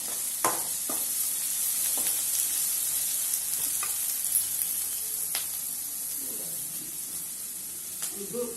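Onions sizzle steadily with salt in a pan on a Butterfly gas stove for chicken kulambu, a constant bright hiss broken by occasional spoon scrapes and a few soft clinks.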